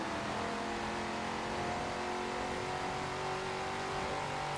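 A Hemi Cuda's vintage V8 revving in the Forza Horizon 4 racing game, a steady, dense engine roar with rising and falling pitch that stays loud and continuous throughout.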